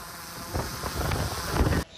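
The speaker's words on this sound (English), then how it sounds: "It's a windy weather, so it's a little more difficult to fly." Wind rushes past a drone in flight over a war-damaged area, a steady broadband roar with low buffeting that swells midway and then cuts off abruptly near the end.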